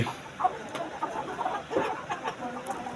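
Desi chickens on a poultry farm cluck in scattered short calls, with several birds overlapping at moderate distance over a low background hum.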